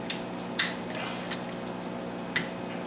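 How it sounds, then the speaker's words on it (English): Water spilling from opened clips on the lines of a Marineland 350 Pro aquarium canister filter gives four sharp splashy spurts at uneven intervals over a faint steady background, with no talking. "Hear the water coming out?"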